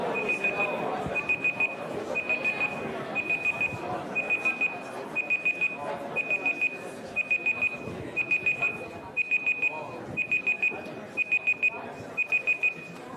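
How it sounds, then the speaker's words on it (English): Repeating alarm beeps in quick groups of four, high-pitched and steady, over a murmur of background chatter in a university programming lecture. "that's probably enough beeping"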